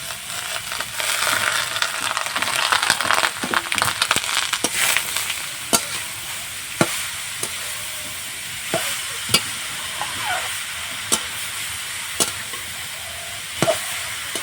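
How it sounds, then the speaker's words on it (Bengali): Steady sizzling of carrots frying in ghee in a pan, broken by repeated sharp scrapes and taps of a spoon stirring against the pan. "এইভাবে নেড়ে নেড়ে আমি গাজরটা একটু ভেজে নেব ঘিয়ের সাথে"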